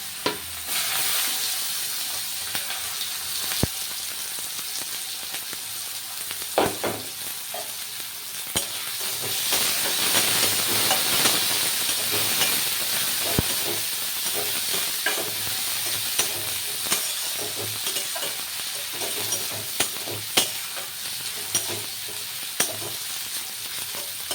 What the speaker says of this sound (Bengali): এবারে পেঁয়াজগুলোকে ভাজতে হবে